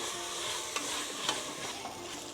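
A pressure-cooker pot of Kerala meat rice, made with half a kilo of meat and half a kilo of rice, gets freshly ground paste from a mixer, a soft steady sizzle and stirring hiss with a few faint scrapes.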